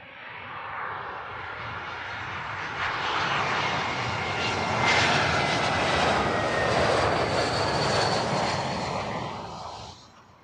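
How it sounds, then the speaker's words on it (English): A passenger airliner, a British Airways arrival, passes on landing approach to Heathrow's southern runway, a loud broadband engine roar that swells from about three seconds, holds steady, then fades near the end, with no talking. "Next arrival here on Heathrow's southern runway"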